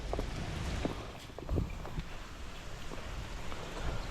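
Steady rain patters across the whole stretch, a dense broadband hiss with occasional heavier drops and a low rumble underneath, no voices; the rain is intermittent, during a storm.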